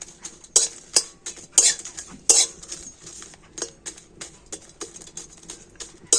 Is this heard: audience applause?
no